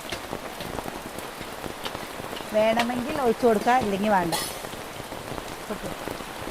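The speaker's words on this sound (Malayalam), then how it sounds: "എന്താ മഴ എന്താ മഴ അടിപൊളി മഴ അല്ലേ" Heavy rain pours steadily onto surfaces in a dense, even hiss, with a person speaking briefly over it midway.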